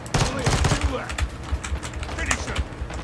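Bursts of gunfire from a gun in Call of Duty: Modern Warfare 2 on PC, quick clustered shots early then scattered single pops, with a person talking over the shooting.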